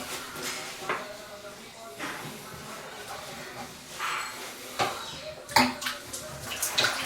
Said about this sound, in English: Squeezing out my sponge here.